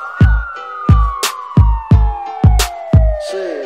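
A police siren effect in a Latin urban song: one long, slowly falling wail runs over punchy bass kicks that repeat about twice a second.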